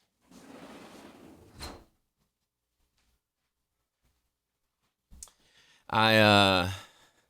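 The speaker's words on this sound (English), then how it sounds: "Let me close my door." A room door is pushed shut with a short knock and click, followed by a pause of silence and then a loud, close creak or scrape from another object being moved.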